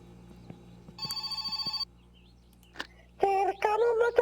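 A telephone rings in the My Summer Car video game, a fast electronic trill in one steady burst of about a second, then a short click, followed by a voice speaking Finnish on the line.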